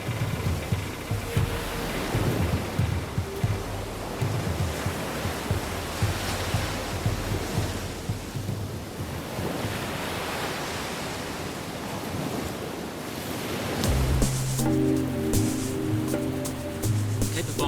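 Waves break against the starboard side of a rusting ship hull on the Tunisian coast, washing and surging in a continuous roar of surf, swelling and easing in slow rhythm, with a low mechanical hum entering near the end.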